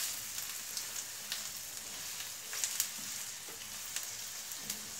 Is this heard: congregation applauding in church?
no